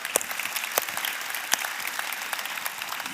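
Congregation clapping at a church service: a sustained, even round of applause from a sizable crowd, with a few crisp individual claps popping out above the steady patter.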